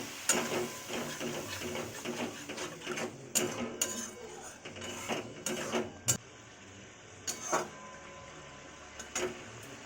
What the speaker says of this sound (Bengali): জল দিয়ে একটু ভালো করে কষে নেব